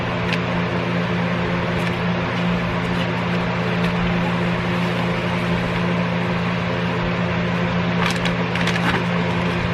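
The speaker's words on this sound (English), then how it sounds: "I'm actually going to start here with the logo part and kind of peel that away" An S&B logo sticker is peeled off a Jeep Gladiator cold air intake part, giving a continuous dry crackling and tearing texture over a steady low hum that runs close and fairly loud throughout.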